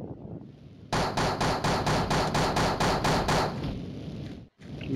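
Shotgun fire in the mobile game Mini Militia: a rapid run of about ten evenly spaced loud blasts in quick succession, then a quieter tail and a brief cutout.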